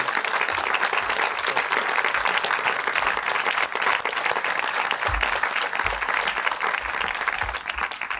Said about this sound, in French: je pense qu'on peut tous t'applaudir une nouvelle fois.